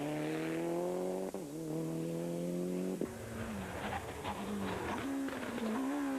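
A Toyota Celica rally car racing on Irish tarmac at a Punchestown rallysprint, its engine revving hard with rising and falling pitch, two sharp gear-change breaks, then a rougher, raspier drone as it passes fairly close.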